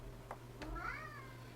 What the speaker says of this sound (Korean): 쌤 고양이가 문 밖에서 열어달라고 난리를 치네요